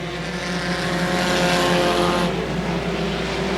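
Race cars roar around the dirt oval at Houston Motorsports Park during the Liberty Bell 200, a loud, continuous engine drone that swells and shifts in pitch as the cars pass, with no talk over it.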